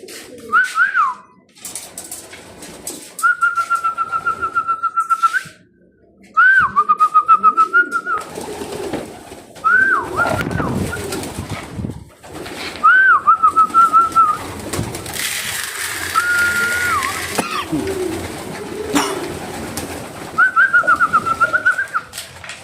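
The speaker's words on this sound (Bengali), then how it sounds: "নর কবুতর সবগুলোই খাবার খাচ্ছে" Racing pigeons coo while feeding during the monsoon moulting season: repeated soft, rolling coos come in bursts at close range, separated by quieter gaps with faint shuffling and background noise.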